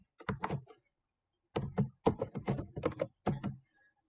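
Keys on a computer keyboard tapped in short clustered bursts, close and crisp, with a pause of silence between the first cluster and a quicker run of strokes afterward.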